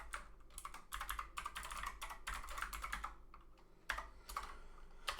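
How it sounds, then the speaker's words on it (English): Typing on a computer keyboard to enter a database URL, with quick, close, crisp key clicks in uneven bursts and brief pauses, fairly quiet and with no talking. "So I'm just going to type that out now."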